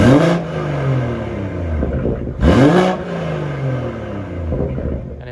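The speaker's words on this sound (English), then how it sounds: "So just in terms of what the exhaust sounds like, this is currently in comfort mode." A BMW M140i with a stage 2 tune, CST turbo and sports catalytic converter, revving twice in comfort mode: two sharp throttle blips that rise and fall back to a steady idle, heard close and with no talk.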